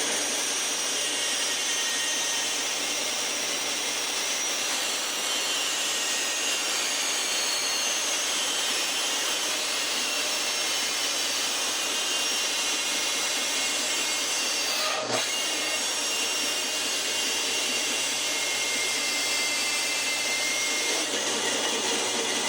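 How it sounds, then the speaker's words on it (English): A sander grinds an exhaust pipe on a Jeep JK to fine-tune its fit, a loud, continuous high-speed whir and rasp held steady throughout, with a brief break near the middle. "do a little fine tuning with the sander to make it fit just the way I want it"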